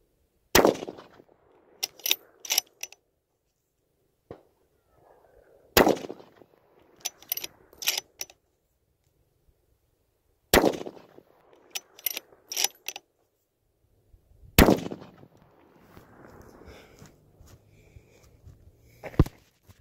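Four loud, sharp cracks from a .308 rifle come several seconds apart while an optic is zeroed at an outdoor range, each followed by quieter clicks and rattles from handling the gun.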